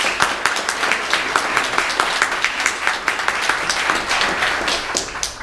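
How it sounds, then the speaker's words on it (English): A conference audience in New York applauds steadily, dense clapping from many hands holding an even level throughout. "Let's give him a great big round of applause,"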